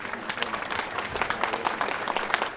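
Concert audience applauding at a memorial tango concert for a singer, a steady dense wash of many hands clapping close and loud throughout, with no voices over it.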